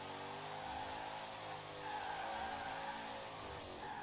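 A car drifting in Forza Horizon 4 on a wheelspin drift build, engine droning steadily while tires squeal in a long sustained whine that rises midway, close and continuous throughout.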